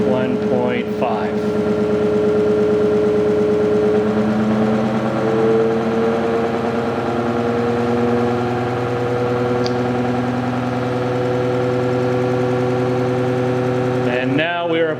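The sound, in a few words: ReGen-X stepper traction motor running with regenerative charging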